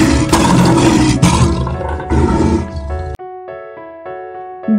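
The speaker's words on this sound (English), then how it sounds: "This is a lion." A lion gives a loud, rough roar lasting about three seconds, followed by a brief quieter stretch of lower, tonal rumbling.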